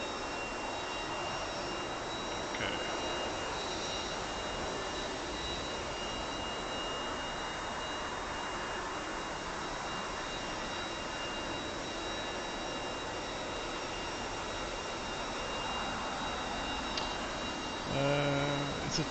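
A T-45 jet engine whines and roars steadily while taxiing in the DCS flight simulator game, a continuous even hiss-like drone with a few faint clicks near the end and no talk.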